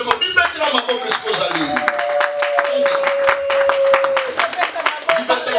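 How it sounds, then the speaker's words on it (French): A church congregation applauds with dense, continuous clapping while music plays and a sustained tone rings over the crowd. "Peuple de Dieu, applaudissez pour vous-même"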